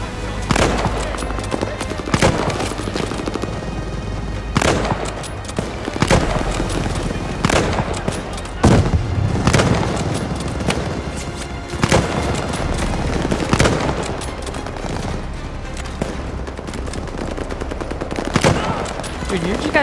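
Machine gun fire in Call of Duty: Vanguard's Operation Tonga mission, sustained bursts and sharp booming shots hammering loudly and continuously, with a voice shouting occasionally underneath.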